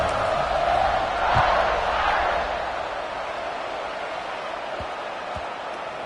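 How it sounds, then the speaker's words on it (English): A football stadium crowd on wet turf hums with a steady, dense roar after a score, the broad murmur swelling slightly early then holding level, with a few faint thumps underneath. "this crowd is buzzing after that last score"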